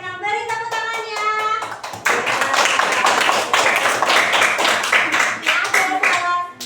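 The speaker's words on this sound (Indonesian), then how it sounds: "Beri tepuk tangannya." A classroom of pupils claps for a student group, a sustained burst of many hands that swells and carries on over several seconds, with a teacher's voice briefly heard beforehand.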